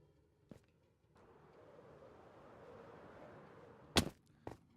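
Firework rockets in Minecraft Bedrock Edition, with a soft whooshing launch rising for a few seconds, then a sharp loud bang and a couple of quick pops. It plays alone, with no talking.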